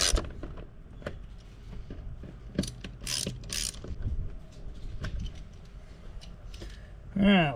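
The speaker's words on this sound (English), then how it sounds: "when I tighten it down, there's no specific way to do it, but I kind of do it in a star pattern" A ratchet snugs down the bolts on a 2024 VW Jetta air filter housing, with rapid clicking pawl bursts and metallic ticks, close and steady, ending in a brief squeak.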